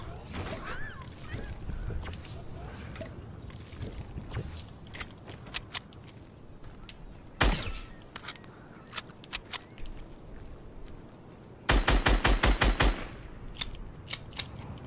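Gunfire in the Fortnite video game: a loud single blast, then a tight rapid burst of shots, with scattered sharper cracks and game noise around them, and a player's voice faintly in the mix.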